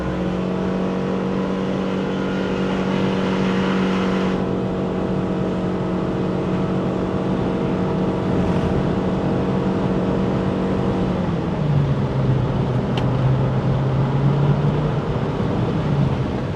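A 2026 Proton Saga Premium CVT climbs a steep mountain road toward Genting, its engine giving a steady, loud drone heard from inside the cabin. Around eleven seconds the pitch drops and settles lower. No one speaks.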